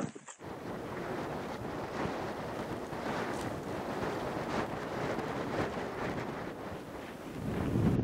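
Cold, cloudy wind blows across the desolate Toiyabe Crest Trail in Nevada's Arc Dome Wilderness, a steady loud rushing roar with microphone buffeting that swells slightly near the end.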